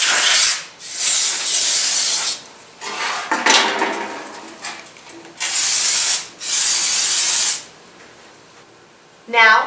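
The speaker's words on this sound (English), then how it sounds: "Before you install your new brake rotor, clean it with brake cleaner in a clean pan." Brake cleaner sprayed onto a new brake rotor over a pan, several loud close aerosol bursts of a second or so each, separated by pauses and some metallic handling noise.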